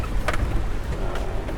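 A Toyota Land Cruiser in four-wheel drive fords a deep water crossing on safari in Tanzania's Serengeti, giving a steady wet rushing and splashing wash with buffeting wind noise and a few sharper sloshes, no talk.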